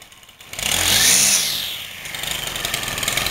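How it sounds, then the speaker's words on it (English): Gas string trimmer engine spinning its line inside a garbage pail half full of home-grown wheat to thresh it, a steady loud whining buzz that surges up and then holds at a slightly lower pitch. "We have our trusty weed thresher, which is none other than a weed whipper."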